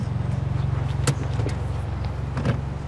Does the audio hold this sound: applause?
no